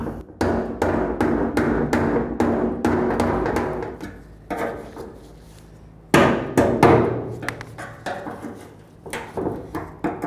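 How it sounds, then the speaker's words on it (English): Repeated hard blows from a rubber mallet knocking loose the fuel tank of a 1965-67 Pontiac GTO, arriving in quick bursts of close, loud thuds with a short pause before a second run of strikes. "I'm going to use a nice rubber mallet and I'm going to try to bonk this free"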